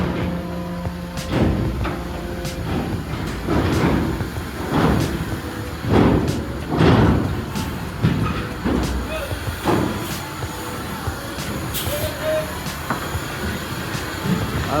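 A Surya Bali trans-Java bus drives onto a ferry ship, its wheels thudding over the ramp joints in a run of heavy, evenly spaced clunks above a low engine drone, with voices in the background.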